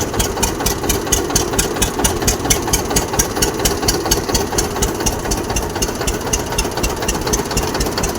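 A diesel tractor engine idles close by, a loud, steady chugging with rapid rhythmic knocking throughout.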